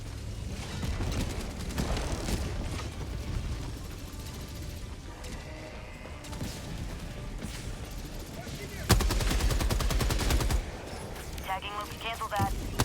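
Sustained video game gunfire from a command turret at a bot stronghold: dense, continuous shooting with a louder, harsher burst partway through, filling the soundscape throughout.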